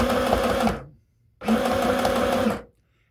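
Two close, even bursts of a sewing machine forward stitching a seam in red cotton skirt fabric, each a steady whirring run of under a second, separated by a brief silence.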